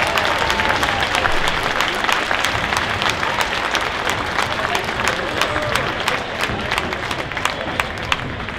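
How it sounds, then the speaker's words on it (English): An audience applauds an inductee at a hall of fame ceremony in a high school gym, steady dense clapping from a large crowd continuing throughout with no pause. "Let's have a nice round of applause for David Walters."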